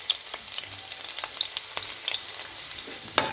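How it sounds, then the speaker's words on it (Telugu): Chopped garlic frying in hot oil, a steady close sizzle with crackling pops and the occasional scrape of stirring throughout. "మనం నూనె వేడెక్కిన తర్వాత ఫస్ట్ వేయాల్సింది వెల్లుల్లిపాయ"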